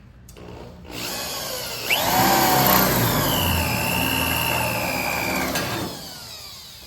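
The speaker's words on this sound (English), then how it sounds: "I'm gonna punch some holes in the metal here" Power tool whirring through sheet metal while making a replacement body panel, a sustained loud whine with rising and falling pitch lasting several seconds before spinning down.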